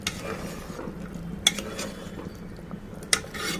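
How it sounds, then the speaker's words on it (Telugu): A spoon stirs tomatoes into a bean and chana dal curry in a pan, giving soft scraping and stirring sounds with two sharper clinks of the utensil against the pot, and no talking. "దీంట్లో టమాటా వేస్తాము మంచిగా కలుపుకోవాలి"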